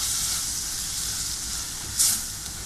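Onions, tomatoes and coriander powder frying in a pan for a beef masala, a steady close sizzle and hiss with a brief louder burst near the end.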